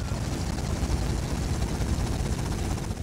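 Helicopter in Grand Theft Auto: Vice City, a loud continuous rotor chop and engine roar that stays steady and close throughout.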